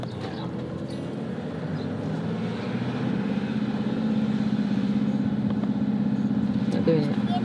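A car engine, near and steady, hums and gradually swells as the gear changes, with a low rumble running throughout beneath a rattling drivetrain.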